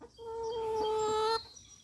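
A single drawn-out chicken call, loud and close, lasting about a second before cutting off, with quiet background otherwise.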